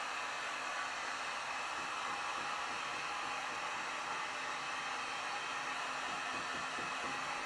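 A heat tool blows hot air over layers of wax, a loud, steady, unbroken rushing hiss that runs without pause until it stops at the very end.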